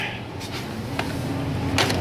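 A workshop drawer slides open amid parts from a dismantled Sportster motorcycle, with a few short scrapes and knocks against a steady background hum, fairly close.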